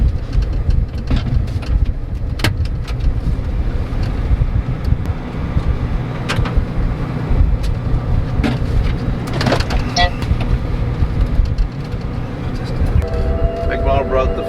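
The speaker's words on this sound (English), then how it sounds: "I'm driving a full combine across the field waiting on the grain cart to pick Kayla up" A full combine harvester is driven across a crop field, its engine a steady, loud low rumble with rattling and clunks throughout, while people talk over it.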